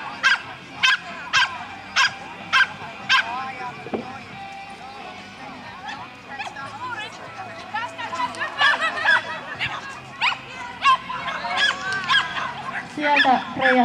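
A dog barks while running an agility course at a competition. Sharp, evenly spaced barks come first, then more barking mixes with an announcer talking and crowd noise.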